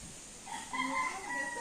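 Chickens calling in a village yard in the morning, a fairly faint, short run of fowl clucks and drawn-out crowing-like calls with no talk.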